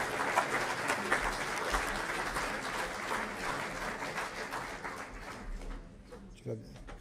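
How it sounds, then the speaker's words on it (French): An audience applauds riders at length at the Soirée des Champions 77 2023 equestrian event, a broad wash of clapping that fades a little toward the end, with a voice speaking faintly underneath. "Vous pouvez les applaudir, ces valeureux cavaliers."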